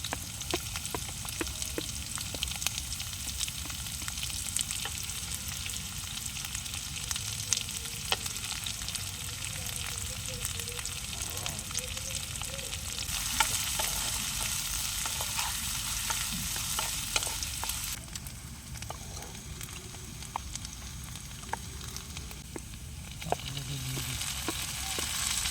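Onion frying in hot oil at an outdoor riverside group camp, a dense, steady sizzle that carries on without a break, with light stirring scrapes now and then, close by.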